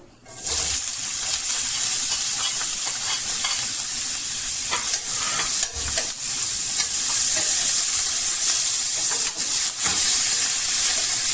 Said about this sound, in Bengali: নেড়ে ছেড়ে তাহলে ভেজে নেব পেঁয়াজ রসুন